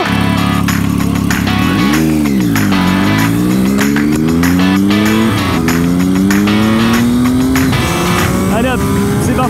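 A Ferrari Daytona accelerates hard on a circuit test track, its engine note climbing through the gears in a loud, close, continuous roar with pitch sweeps at each shift, and a voice talking over it.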